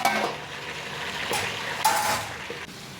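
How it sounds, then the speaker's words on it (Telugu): Chicken pieces frying in oil for a chicken pickle, a close hiss and sizzle with a few scraping stirs of a utensil against the pan and clinks of metal, no voices. "ఇప్పుడు మళ్ళీ చికెన్ని వేసుకొని ఫ్రై చేసుకోవాలి."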